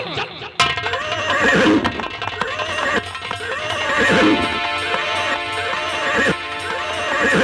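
A horse whinnies loudly and repeatedly, mixed with hoof clatter, in a staged folk drama of a chase scene, with the sound filling the whole stretch and no talk over it.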